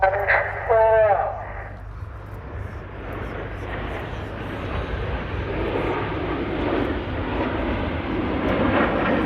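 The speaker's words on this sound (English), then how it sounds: "In from the right, in honour of their 20th anniversary, this is the Typhoon Roll." A Royal Air Force Eurofighter Typhoon jet performs a display roll at an air show, its broad engine roar building and sustained throughout, with a brief burst of crowd or radio noise at the start.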